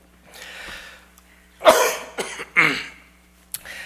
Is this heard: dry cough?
yes